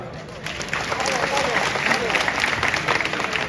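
Audience applause breaks out at a speech ceremony and holds as a steady wash of clapping from a fairly close crowd, with murmuring voices mixed in.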